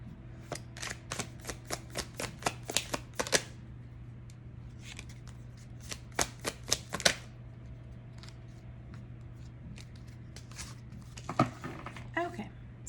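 Oracle cards are shuffled and riffled in rapid bursts of soft papery flicks, quiet and close, pausing between runs over a steady low hum.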